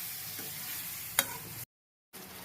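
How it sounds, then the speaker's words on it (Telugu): Chopped tomatoes fry in hot oil in a pan, giving a soft, even sizzle with a sharp clink of a spoon partway through before the sound cuts out briefly and returns. "ఇప్పుడు కట్ చేసుకున్న టమాటాలు యాడ్ చేస్తున్నానండి"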